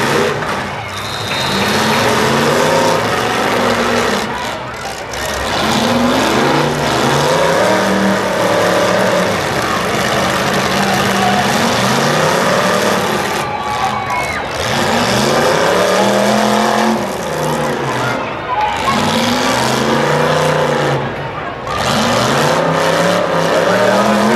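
Cars in a demolition derby at a county fair in Muskingum County, Ohio, rev and growl across the field in loud, rising and falling engine surges with occasional tire scuffs, mixed with a distant crowd and announcer.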